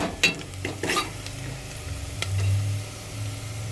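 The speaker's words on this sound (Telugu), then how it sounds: "అలా నూనె అంత సొరసొరలాడుతుందో" Onions fry in oil with a low, continuous sizzle, marked by a few sharp utensil scrapes and taps near the start and a soft, bubbling hiss that carries on to the end.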